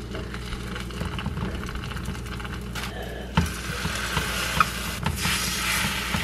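Soaked bread fries in a pan, giving a low, steady sizzle with occasional soft pops and faint kitchen clatter, fairly quiet and close.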